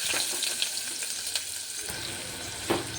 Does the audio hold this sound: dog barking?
no